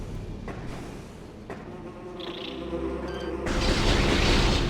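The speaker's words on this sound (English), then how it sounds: "That's a nest for the war wasps." War wasps pouring out of their nest in Metroid Prime, a thin buzzing insect drone over a game backdrop that swells louder toward the end as the swarm arrives.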